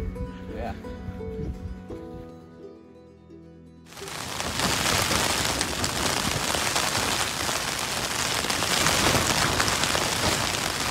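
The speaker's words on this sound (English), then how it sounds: "So it is a little rainy outside." Talk over a quiet background gives way to loud, dense rain pattering steadily on a tent surface close by, while camping in the Caucasus mountains.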